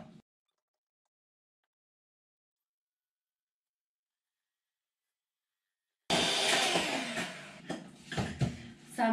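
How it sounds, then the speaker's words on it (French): An electric hand mixer whips a homemade dishwashing soap mixture, starting abruptly after a long silence as a loud, steady whirring drone with fluctuating strain. "après je vais utiliser mon batteur électrique"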